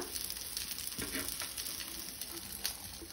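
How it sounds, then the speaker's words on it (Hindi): Stuffed clams frying in a pan give off a steady, moderate sizzle with faint crackles and one brief louder spatter, with no talking. "आनी पळयात दोन्ही वटल्यान बऱ्यो फ्राय करून जाल्यो।"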